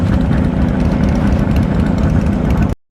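A two-stroke Honda motorcycle engine revving hard, a loud, continuous raspy drone held steady for nearly three seconds before cutting off abruptly.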